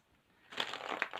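Tarot cards are shuffled briefly after a quiet moment, a close, papery riffling burst.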